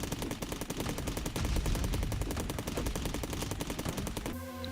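Rapid automatic fire from an upgraded assault rifle in the video game Cally's Trials, a fast, steady stream of shots that runs nearly continuously before cutting off abruptly.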